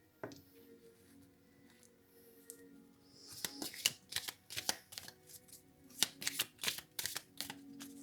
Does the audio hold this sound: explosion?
no